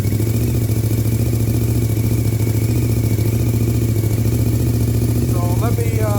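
A 2001 Suzuki TL1000R motorcycle engine runs at a steady loud idle close by, a constant throbbing drone with a faint mechanical clatter, while someone speaks over it.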